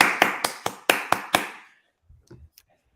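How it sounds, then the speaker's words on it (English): A developer summit audience greets the speaker with six close, crisp claps in quick succession that stop abruptly, followed by a brief low rustle and a faint tap in near silence. "Please, everyone, just give a big round of applause."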